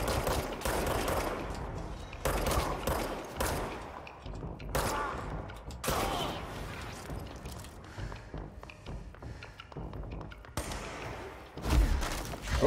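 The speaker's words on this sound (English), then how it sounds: "Who was shooting? Who's shooting?" Bursts of gunfire from the video game Control crackle in repeated volleys, rapid and loud, mixed with thumps and mechanical clatter across the stretch, no talking over it.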